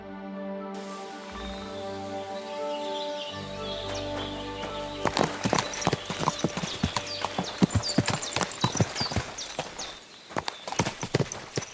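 Clip-clopping hooves of a horse in Kingdom Come Deliverance 2, starting after a droning musical opening, then a quick uneven run of close, loud hoof strikes with a brief lull before a few more.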